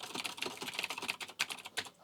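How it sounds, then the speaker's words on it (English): Rapid, uneven typing on a Dolch PAC-62 lunchbox computer's mechanical keyboard, with crisp close clicks and a faint ringing from the case, heard alone. "when you type on it, there's a little bit of a ringing sound you can hear inside the keyboard case."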